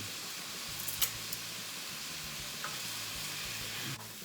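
Bay leaves drop into a pot of sauerkraut soup with vegetable broth, giving a soft, quiet sizzle and a few faint clicks and taps of utensils, with no talking.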